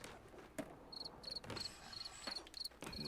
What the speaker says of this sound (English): We need more fucking crickets.